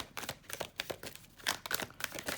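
Astrology cards shuffled by hand give a run of close, papery riffles and crinkly flicks in uneven bursts, fairly soft and alone without any talking.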